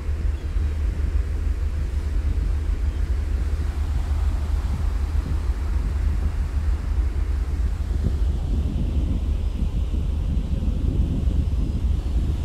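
Water churned up by a boat near Finland, a constant rushing and roaring wash with heavy low wind buffeting against the microphone, steady and loud throughout, with no voices.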